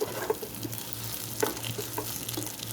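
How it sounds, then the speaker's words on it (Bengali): Rice sizzles as it is stir-fried in a pan for a homemade KFC-style rice bowl, a steady frying crackle with intermittent scraping stirs, close and continuous with no talking. "এখন এটাকে আমি ভাজবো এটার সাথে।"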